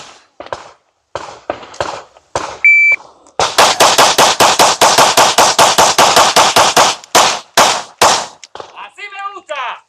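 Rapid pistol shots from a P320 fitted with a compensator ring out at a range, a few spaced rounds followed by a fast, loud string of closely repeated cracks, with brief pauses and quieter handling at the end.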